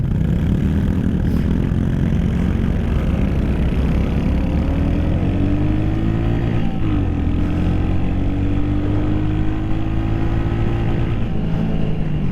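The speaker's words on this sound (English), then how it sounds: "the rev limiter there in second gear is about 45 miles an hour. You hit the rev limiter." A 2023 Royal Enfield Hunter 350 single-cylinder motorcycle held at the rev limiter in second gear at about 45 mph: a steady loud droning engine note with faint stuttering pitch wobbles, heard close under rushing wind.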